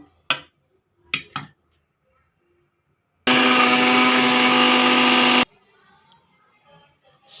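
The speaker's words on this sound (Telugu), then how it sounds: "ఇది మొత్తాన్ని మనం మిక్సీ వేసేసుకుందాం" A mixer grinder blending mint whirs loudly for about two seconds, starting and stopping abruptly, after a few sharp clicks and taps.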